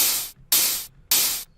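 White noise layer of a snare synthesized in Serum, heard as three loud bursts of bright hiss, each cutting off sharply and separated by short gaps of near silence.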